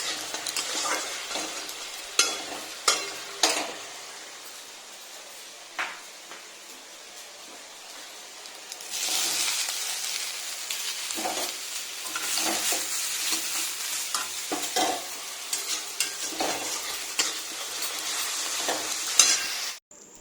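Bitter gourd frying in a pan for shukto, a close, steady oil sizzle punctuated early by a few sharp utensil taps, then a louder, fuller crackle with spits and stirring scrapes.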